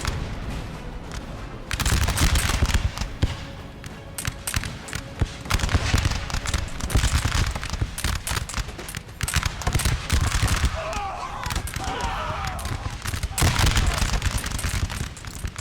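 Infantry units trade musket volleys on a Napoleon Total War battlefield between French and Austrian lines, with dense crackling bursts of gunfire rolling continuously, loud and layered, while someone talks over it.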